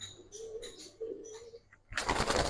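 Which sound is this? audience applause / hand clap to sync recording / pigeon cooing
pigeon cooing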